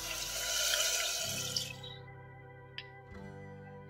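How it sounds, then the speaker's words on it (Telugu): Water is poured into a bowl of marinated meat for Hyderabadi nalli biryani, a close splashing rush for about two seconds that gives way to a low steady hum with faint clinks. "ఇప్పుడు మనం మారినేట్ చేసిన బౌల్లో అందులోనే వాటర్ పోసేసుకోవాలి"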